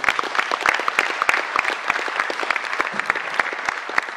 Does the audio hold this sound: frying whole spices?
no